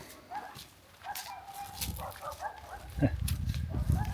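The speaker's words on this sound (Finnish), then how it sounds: "Koirat innostu siellä." Dogs bark excitedly in short bursts at a distance on a hot day near a vineyard in Italy's Alba and Asti area. The barks sound faint outdoors and carry over low background noise.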